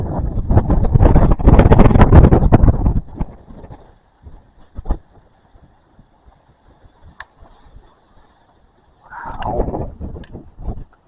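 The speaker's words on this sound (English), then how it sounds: "Oh, here comes a big gust." A powerful gust front from a collapsing thunderstorm roars across the microphone in a loud burst, dies away to near quiet, then another strong gust rises near the end.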